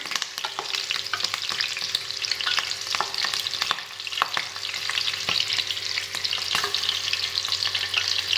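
Green chilies fry in hot oil with a steady crackling sizzle, punctuated by sharp pops and the scrape of stirring, close and continuous.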